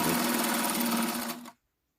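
A sewing machine stitches a trouser waistband in a fast, steady whirring run of needle strokes, close and clear, then stops abruptly into silence.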